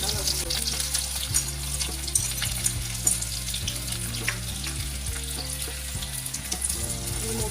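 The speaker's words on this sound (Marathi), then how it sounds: "तेल गरम झाल्यावर त्यात कांदा भाजून घेऊया" Four large onions fry in hot oil for a Kolhapuri mutton masala, giving a steady, bright sizzle with occasional stirring scrapes over a low continuous hum.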